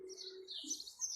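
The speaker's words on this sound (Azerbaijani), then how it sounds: "Quşların da səsi doludur, qara toyuq, bülbül var burada." Blackbirds and nightingales sing in a brief burst of bright chirps and warbling notes in countryside at a horse-riding spot in Binə, heard near and clear with no voices.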